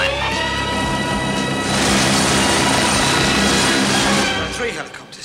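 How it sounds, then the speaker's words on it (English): Three military helicopters fly overhead in a combat zone, their loud, steady rotor and engine roar filling the scene, swelling in the middle and then easing toward the end, with voices heard faintly at moments. "3 helicopters. They landed over there."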